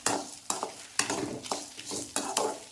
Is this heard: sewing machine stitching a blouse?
no